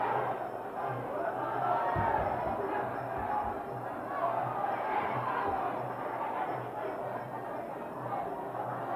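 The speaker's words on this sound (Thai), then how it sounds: "ชอบเสียงเชียร์" A big crowd roars in a steady wash at a Muay Thai fight, swelling and dipping throughout while a commentator talks over it.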